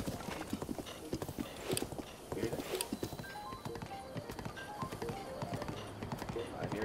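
In The Legend of Zelda: Breath of the Wild, a horse trots with steady rhythmic hoof clip-clops over several seconds, moderately close, alongside game sound effects and talk.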